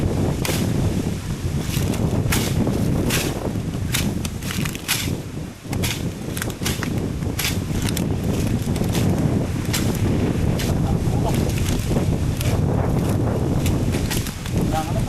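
Strong gusting wind sweeps through a banana plantation ahead of a typhoon, a loud, constant buffeting roar with crackling leaf flutter and rapid irregular flaps throughout, briefly easing around the middle before resuming.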